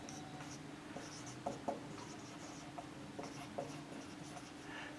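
Chalk or marker strokes on a classroom board during a Class 7 mensuration lesson, soft scratchy taps and scrapes in short irregular bursts over a steady low room hum, fairly quiet and close.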